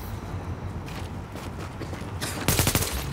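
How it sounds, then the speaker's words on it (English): Gunfire from a shooter video game, a rapid burst of sharp, loud cracks near the end following softer creaking and mechanical clatter, with no talk over it. "That was a gunshot."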